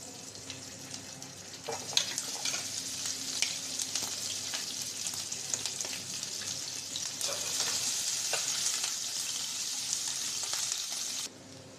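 Meat fries in oil with a continuous, dense sizzling hiss that stays steady and fairly loud, with occasional spatters and faint stirring knocks, then stops abruptly near the end; no voices.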